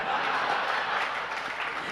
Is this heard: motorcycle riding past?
no